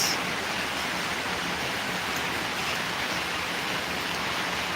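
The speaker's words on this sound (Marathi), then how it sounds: "आणि पाऊस सुरू झालेला आहे बघा पाऊस" Steady rain pours down, a dense even hiss with no pauses and no voices.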